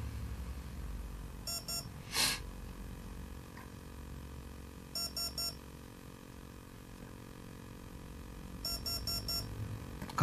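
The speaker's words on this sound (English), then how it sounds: "you listen the beep and then you turn up" A TowerPro MAG 8 18A electronic speed controller emits three spaced groups of short, high-pitched programming beeps, each a quick run of four or so tones, over a low steady hum with one brief louder click between the first two groups.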